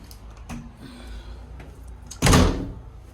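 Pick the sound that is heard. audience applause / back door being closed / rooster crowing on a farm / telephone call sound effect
back door being closed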